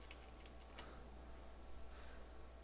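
Keys tapped on a computer keyboard, quiet and close, with one sharper click early on and a few soft taps among low background hum.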